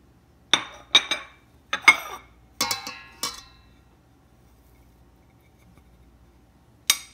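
Doner kebab mixture is mixed in a bowl, with about seven sharp clinks of a utensil striking the bowl in irregular bursts, separated by a long quiet gap.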